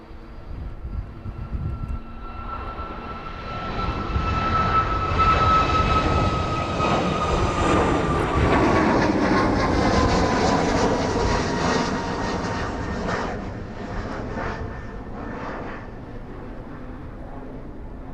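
A passenger jet bound for Malaga takes off from East Midlands Airport on runway 27. A loud roar builds to a peak mid-way with a whining engine tone, then slowly fades as the aircraft moves away.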